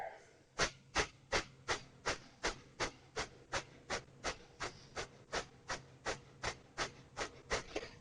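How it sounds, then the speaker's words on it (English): Rapid yogic breath of fire during a crescent lunge, about seventeen sharp rhythmic exhalations through the nose, evenly spaced over eight seconds, close and alone without talk. "Continue the breath of fire."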